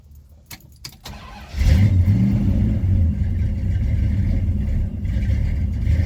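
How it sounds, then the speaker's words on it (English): A 1972 Dodge Dart with a Mopar 318 small-block V8 and a rebuilt Edelbrock 1406 carburetor cranks and starts, then settles into a loud, steady, slightly rough idle close by, after some clicks and handling noises and with no talk. "let's see if we can turn the key, see if we can get a good idle"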